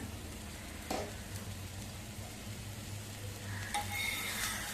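A jowar (sorghum) flour pancake sizzles steadily on a pan over medium heat, a soft continuous frying hiss with a couple of brief scraping clicks from the flip.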